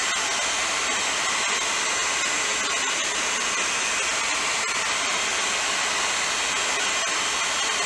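A simple hair dryer blows steadily and loudly, heating metal before a Duracoat finish is applied, its constant airy roar unbroken for eight seconds with no voices.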